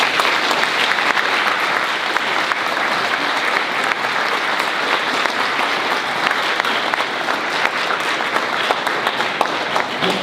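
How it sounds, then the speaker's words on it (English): Audience at a school speech day and junior awards ceremony applauding in a hall, dense, sustained clapping from a large crowd that holds steady for about ten seconds. "Please give a round of applause for Mr."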